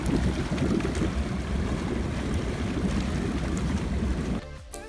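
Water gently bubbling outdoors in a quiet natural setting near Shimla, a continuous soft wash of burbling and rushing with a steady level and no voices, ending abruptly.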